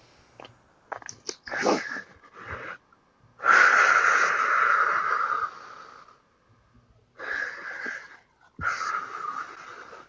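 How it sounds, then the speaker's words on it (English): Deep, slow breathing: a few long, noisy breaths, each lasting a couple of seconds and separated by short quiet pauses, heard close up with no talking. "can you take some deep breaths for me, please? Yeah, deep and slow breaths"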